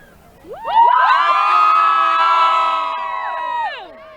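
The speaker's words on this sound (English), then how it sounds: "We need one last cheer as we enter the halftime show." Football game crowd at a Thanksgiving high school matchup cheers loudly before halftime, a swelling burst of many shouting and whooping voices that rises, holds steady for a few seconds, then fades.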